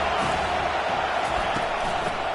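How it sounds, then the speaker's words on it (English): Dense, steady roar of a large football stadium crowd at a Utes vs BYU game during a second-down play, loud and continuous with faint shouts rising through the noise. "this crowd is turning it up a notch"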